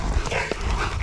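Hunting dogs tussle with a caught wild pig during a pig hunt in New South Wales, Australia, with close scuffling, panting and low growls heard through rough handheld noise.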